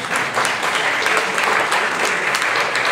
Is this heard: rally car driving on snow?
no